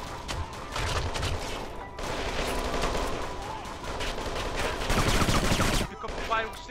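Gunfire from the video game Kane and Lynch 2: Dog Days, with sustained loud bursts of shots and brief pauses running through the clip.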